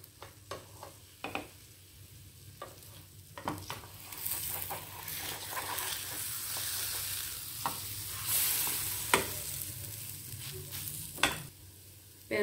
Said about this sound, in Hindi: इसे हल्की गैस पर थोड़ी देर सिकने देंगे।